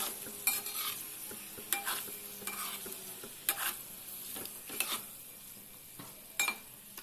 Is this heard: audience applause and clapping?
no